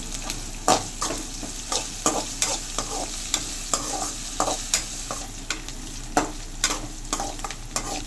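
Dried red chillies and curry leaves sizzle in hot oil during tempering, a steady frying hiss broken by frequent scraping stirs of a spoon against the pan, close up with no voices.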